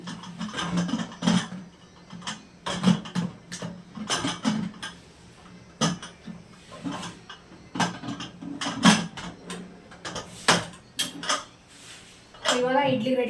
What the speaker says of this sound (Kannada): cooker ಕ್ಯಾಪ್ನ close ಮಾಡ್ಕೊಂಡ್ಬಿಡ್ತೀನಿ